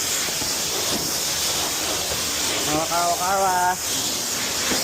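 Car wash high-pressure rinse spraying a car, a loud continuous hissing spray close by, while a voice speaks briefly over it near the end.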